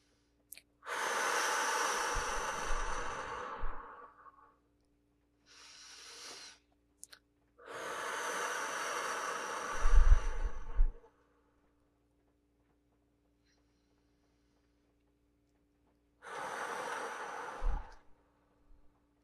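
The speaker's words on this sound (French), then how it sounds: "Nous vous invitons à prendre une grande respiration avec nous maintenant." Slow, deep guided breaths drawn in and let out, three long airy inhale-exhale swells separated by quiet gaps, close up, with no talking.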